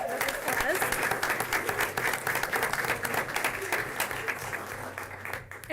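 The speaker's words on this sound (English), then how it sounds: "Let's give them a big round of applause." Applause fills a school district board meeting room for visiting high school drama champions, a fairly close crowd clapping with audible individual claps and a few voices, the sound thinning slightly toward the end.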